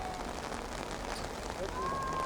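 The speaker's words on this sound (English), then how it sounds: "an unusually large amount of rain falling today" Heavy rain pours steadily onto a wet field hockey pitch during a high school match, a dense, even hiss that swells slightly toward the end, with faint voices in the background.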